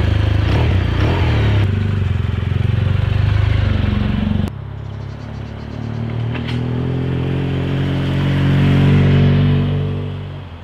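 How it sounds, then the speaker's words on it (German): A motorcycle brought from Brussels, heard riding on the grounds of the German embassy in Ankara: a loud, steady engine rumble that drops after a sharp clack partway through, then rises again and fades toward the end. "Ich habe aus Brüssel mein Motorrad mitgebracht und werde das Land auch auf zwei Rädern erkunden."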